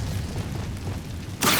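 An Incendio fire spell cast in Hogwarts Legacy: a low rumbling whoosh builds, then ends in a sudden bright fiery burst.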